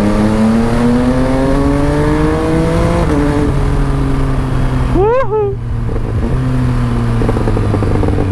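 An MV Agusta Stradale 800 motorcycle is ridden, its engine droning and shifting pitch through gears, then a sharp exhaust crackle and rev burst near the middle over steady wind rush.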